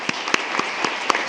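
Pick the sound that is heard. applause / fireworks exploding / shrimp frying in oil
applause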